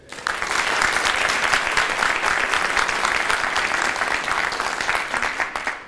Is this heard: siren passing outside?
no